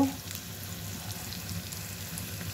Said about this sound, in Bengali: সব একদম ভাজা ভাজা করে ফেলবো